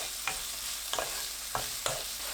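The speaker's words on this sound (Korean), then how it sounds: "팬에 올리브오일 4큰술, 다진 마늘 1큰술, 양파 넣고 센 불로 1분 볶습니다." Minced garlic and onion stir-fried in olive oil over high heat in a pan, a steady close sizzle broken by four sharp scraping stirs spaced through the clip, with no talking.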